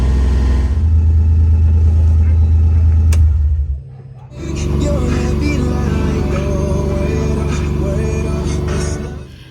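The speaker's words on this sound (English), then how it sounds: "There's the kids on their four-wheelers." Four-wheelers ridden by kids on a homestead, a loud steady engine drone close by that dips briefly partway through and then returns as a rumbling, revving motor.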